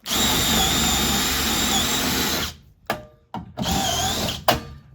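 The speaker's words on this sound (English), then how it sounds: "You drill them out and you knock the head off" A power drill whines steadily and loudly while drilling out rivets on a 2012 Ford Transit Connect van, stops, then starts again in short bursts with brief clatters in between.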